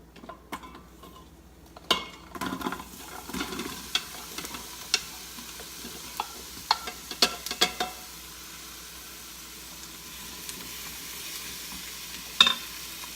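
Onions sizzle softly in an Instant Pot while a wooden spoon stirs them, giving a faint steady fry under irregular sharp scrapes and taps against the pot.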